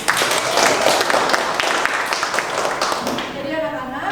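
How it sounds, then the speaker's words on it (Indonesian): Classroom applause for a student named Fahri, brisk clapping from many children, close and fairly loud, fading out near the end as a voice begins speaking. "Beri tepuk tangan untuk Fahri"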